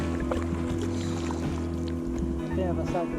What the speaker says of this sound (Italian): Appena passato il motoscafo